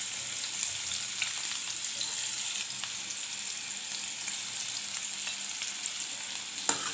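Finely chopped onion fries in hot oil for a Marathi-style sukat (dried fish) dish, giving a steady, soft, hissing sizzle with a few faint crackles throughout, close by and with no talking.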